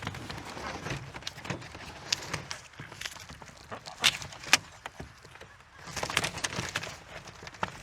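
Welsh Harlequin and Cayuga ducks and geese are let out. Scattered honks and quacks rise over shuffling footsteps and rustling, with a busier flurry of calls near the end and no talking.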